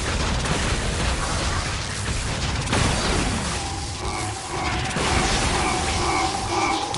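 Explosions in the action video game Scarlet Nexus, a dense, continuous roar of booming blasts and rumbling debris that stays loud throughout, with faint tonal sounds mixed in later.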